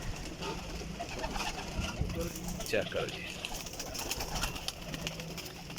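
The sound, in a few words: pigeon cooing as it goes into its loft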